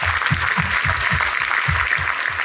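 An audience at a motivational seminar claps in a steady, rhythmic unison beat, about four claps a second, fairly close and even in loudness.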